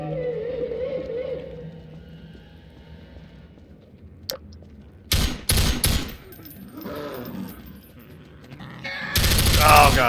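Half-Life 2 RTX gameplay: quiet ambience broken by a sharp crack, then several loud, separate bursts of gunfire and a final heavier volley at the end.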